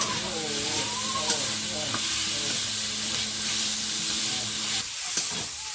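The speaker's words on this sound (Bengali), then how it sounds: "আলুটা কষিয়ে নিয়েছি এবার এর মধ্যে মটরটা দেবো" Potatoes fry with cumin powder and turmeric in a pan, giving a loud, steady sizzle close up with stirring scrapes, and a brief voice is heard over the frying.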